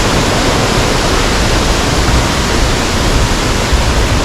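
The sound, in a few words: water flowing down from a waterfall in Kerala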